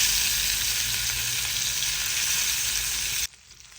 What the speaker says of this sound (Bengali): ইলিশ মাছ ভাজা করছি